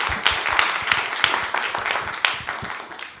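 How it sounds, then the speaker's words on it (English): An audience at a Hong Kong University conference on digital transformation in the built environment applauds its speakers: a steady, dense wash of clapping with sharper individual claps standing out, filling the room for a few seconds. "please, one round of applause for each of the speakers"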